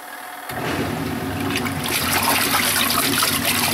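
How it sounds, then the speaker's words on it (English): A portable washing machine churns through its rinse cycle, water sloshing and agitating back and forth loudly and steadily, with a dull start before the washing swells into continuous splashing. "And that's the rinse cycle, and it switches back and forth."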